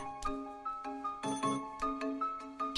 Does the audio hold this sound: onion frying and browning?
no